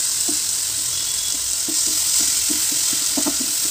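Tomato pickle with tamarind sautéing in a pan, giving a steady bright sizzle with scattered soft pops and bubbling bursts, loud and close, with no voices.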